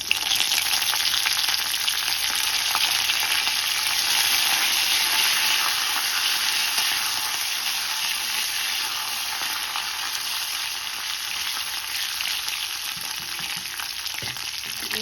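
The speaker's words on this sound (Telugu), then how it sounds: "ఈ ఎండుమిర్చి కొంచెం వేగాలి. వేగిపోయింది కదా, ఇప్పుడు కరివేపాకు." Dried red chillies and curry leaves frying in hot oil, a dense, steady sizzle and crackle that holds for the full length, close up with no voices.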